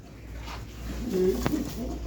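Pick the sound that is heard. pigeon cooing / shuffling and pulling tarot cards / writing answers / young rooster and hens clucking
pigeon cooing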